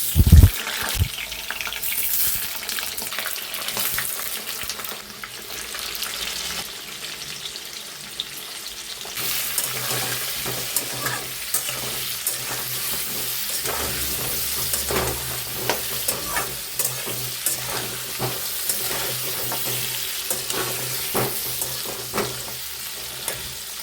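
Mutton frying and being stirred in a pot at home, a steady sizzle with scraping stir strokes and some water splashing, fairly close and continuous throughout.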